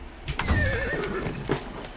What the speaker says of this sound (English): And time for a horse.